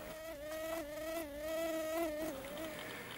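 A mosquito buzzes steadily near a mosquito trap, a thin close whine wavering in pitch throughout.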